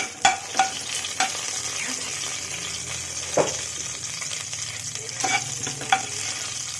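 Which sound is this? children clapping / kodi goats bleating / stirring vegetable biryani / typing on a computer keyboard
stirring vegetable biryani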